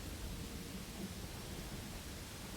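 Rolling thunder and a constant downpour of red rain fill the scene in Pathfinder: Wrath of the Righteous, a broad, even roar of noise that holds steady throughout.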